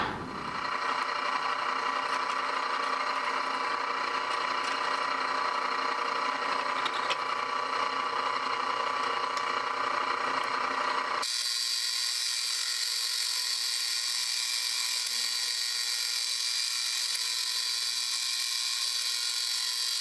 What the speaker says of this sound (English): now I can drill through the original holes into the second one